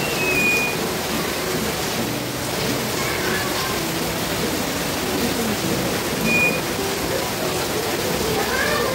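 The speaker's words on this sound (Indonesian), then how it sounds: "ini hujannya baru turun dan langsung gede kayak gini" Heavy rain pours down continuously from the moment it starts, a dense, steady hiss that fills the whole stretch without letting up.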